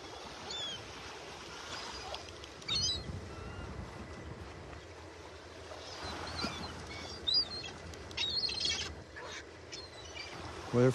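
Shorebirds squabble on Vanderbilt Beach in North Naples, Florida, giving scattered sharp calls and squawks over a constant bed of wind and surf, some calls near and others farther off.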